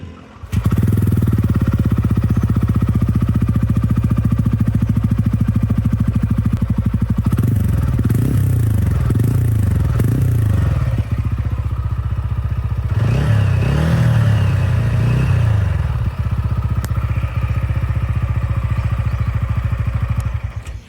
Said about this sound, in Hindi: काफ़ी बेसी और लाउड एग्जॉस्ट है